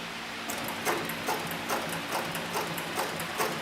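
A CB105 sewing machine driven by a variable speed servo motor at its slowest setting stitches through two layers of soft 4 to 5 ounce upholstery leather, giving a quiet, steady mechanical ticking with regular light clacks about twice a second.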